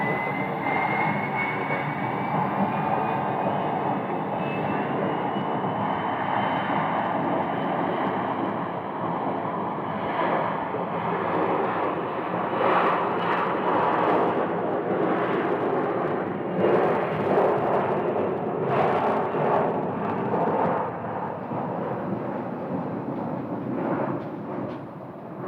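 An American Airlines jet arriving from Tucson at Phoenix Sky Harbor airport on runway 25 right, a sustained broad engine roar that holds steady and swells slightly midway, with no voices.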